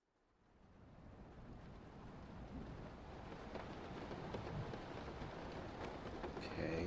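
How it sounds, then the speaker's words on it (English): A rain ambience fades in from silence and settles into a steady, even hiss of falling rain that grows slightly louder, with no voices. "Okay, we turned on the rain."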